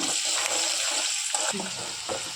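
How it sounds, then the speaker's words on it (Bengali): Chopped green chilli, garlic and ginger frying in a pan, with a steady sizzle and a few light scraping stirs, heard close and alone. "কাঁচা লঙ্কা কুচানো দিয়ে দিচ্ছি। রসুন কুচানো দিয়ে দিচ্ছি। আদাটাও দিয়ে দিচ্ছি। তারপর একটু ভেজে নেব।"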